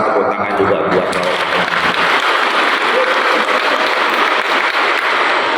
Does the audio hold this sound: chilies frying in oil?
no